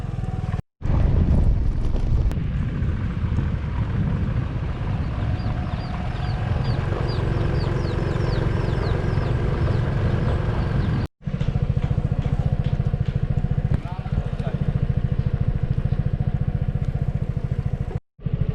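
A motorcycle rides a rough off-road mountain trail in Mae Hong Son, Thailand. A steady engine rumble mixes with heavy wind buffeting, cut by a few brief dropouts, and no one speaks.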